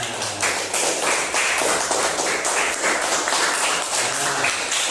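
A small discussion group in a classroom claps for itself, brisk close-up hand claps with a slightly uneven rhythm running steadily throughout.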